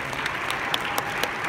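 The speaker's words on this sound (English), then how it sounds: "Maybe you can give yourself a round of applause." An audience at a Southeast Asia meeting applauds, a brief burst of dense clapping from a crowd with a few sharper claps standing out.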